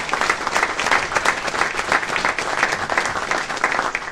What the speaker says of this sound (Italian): E io farei un grosso applauso a queste persone